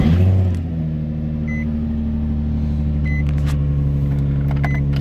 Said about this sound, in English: You can go ahead and even start her up if you like.